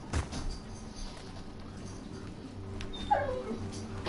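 Dogs whine and whimper in a PS4 game, thin high-pitched yips and cries scattered over a steady background, with a sharper squeal near the end.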